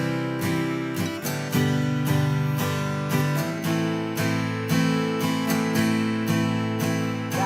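Acoustic guitar strummed briskly through a fast three-chord progression from a simple beginner song, steady and loud, with rhythmic strokes and no talking.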